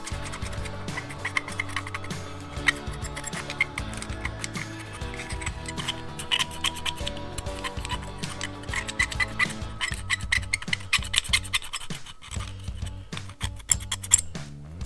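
Metal pick scraping and rasping inside the carburetor of a Predator 4000-watt generator, a busy run of short scratchy strokes and clicks with a hum in the background.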